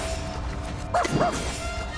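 A puppy gives a couple of quick, close yips in the Reverse: 1999 video game, over a steady background of game ambience.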